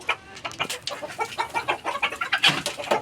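Several chickens cluck and squawk in quick, overlapping bursts inside a rooftop coop of about thirty hens and roosters, close and lively.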